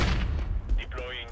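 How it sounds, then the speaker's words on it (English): A flashbang grenade thrown in the CS:GO video game goes off with a brief, loud, booming burst and a ringing tail, with a voice briefly audible. "Deploying flashbang."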